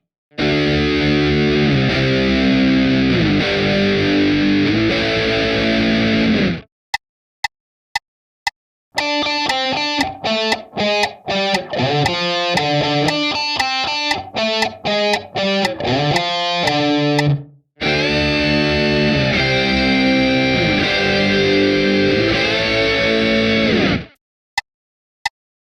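Electric guitar playing a rock riff through a heavy fuzz distortion, loud chugging phrases and a choppy staccato middle section with brief silences, solo with no voices.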